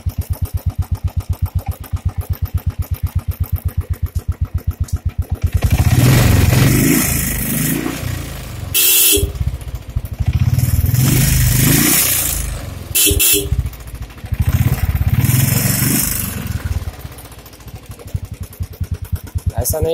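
A single-cylinder Royal Enfield Bullet engine, started without a battery, thumps in an even idle rhythm, then roars in loud repeated revs with short pauses between bursts.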